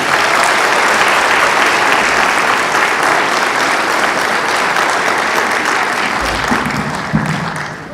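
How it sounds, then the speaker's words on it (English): Applause from a church concert audience fills the whole stretch, a dense steady clapping that stays loud throughout and eases slightly near the end. "How about one more round of applause for Mrs. Julia Lavery?"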